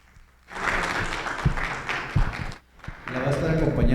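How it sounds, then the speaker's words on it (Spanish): Audience applause at a Mexican seminar on tax and customs benefits for IMMEX companies: a room of people clapping steadily after a sudden start, briefly dipping, then resuming as a voice begins speaking over it. "aplauso, por favor, para Gaby."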